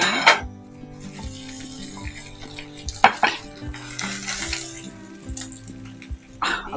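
Chital fish frying in oil in a pan lined with banana leaf, a soft sizzle under clinks of a metal utensil against the pan and scattered scraping, close by, without talk.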